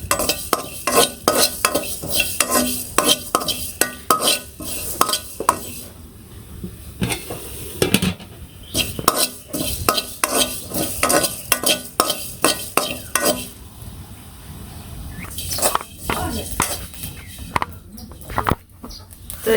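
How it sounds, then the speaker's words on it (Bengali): Lentils fry in oil in a pan with cumin and radhuni as a utensil stirs them, giving rapid, repeated scraping and clattering strokes over a constant close sizzle. "একটু ভাজা ভাজা করে নিই"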